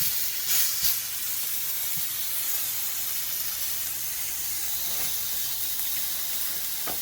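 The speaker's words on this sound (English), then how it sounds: "I'm cooking beef tender." Beef tenders from sirloin searing in a hot pan give off a continuous, close hiss of steam and sizzle that holds steady throughout, with a couple of brief clatters near the start.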